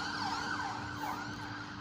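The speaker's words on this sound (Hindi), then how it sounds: "एम्बुलेंस।" Ambulance siren wailing up and down continuously in a rising and falling sweep over steady traffic rumble, at a moderate distance, with no voices.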